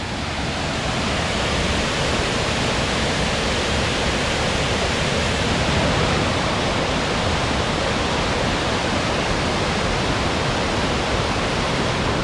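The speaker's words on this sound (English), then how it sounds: "This is Oneida Falls." Oneida Falls on the Falls Trail at Ricketts Glen, Pennsylvania, swollen by rain, roaring as a loud, steady, unbroken rush of falling water close by.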